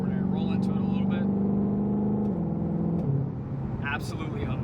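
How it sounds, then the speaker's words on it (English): 2022 Shelby GT500 engine droning steadily under load at highway speed, its pitch holding then stepping down, heard from inside the cabin with someone talking over it. "you can just hear the tone of this engine is just absolutely extraordinary. Roll into it a little bit."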